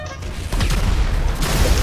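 Gunfire in a first-person shooter game, a dense burst of rapid shots rolling on for nearly two seconds at close range, loud and steady, with players' voices faintly mixed underneath.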